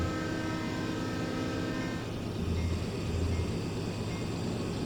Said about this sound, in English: that's just the dynamic brakes doing their thing